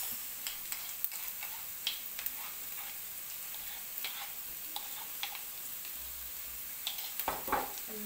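A ginger and garlic mix goes into a pan of frying meatballs, giving a steady close hiss and sizzle broken by small crackles, pops and stirring clicks, with no talking.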